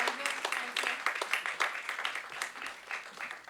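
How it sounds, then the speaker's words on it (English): A crowd at a cultural forum inauguration ceremony applauds during a felicitation, close, lively clapping with distinct individual claps throughout. "Please keep the applause going on."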